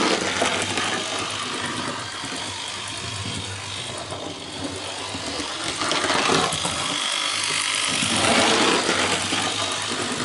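A model railway engine runs through a set of points, producing a continuous close mechanical whir and rattle with slight rhythmic clicks, no voices.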